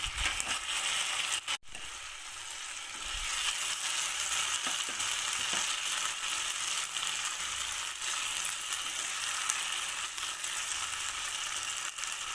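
Potato pieces fry in a pan with a steady broadband sizzle, broken by a brief clatter near the start as they are turned, then a continuous close crackle to the end.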